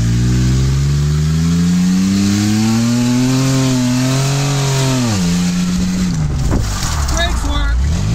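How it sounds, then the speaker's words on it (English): The Wrathfinder, a custom car at Irwindale's burnout area, revs hard while doing donuts, its loud engine note climbing and then dropping sharply, with tire noise and a voice faintly behind it. "does it do donuts? Does it shift gear? And does it stop?"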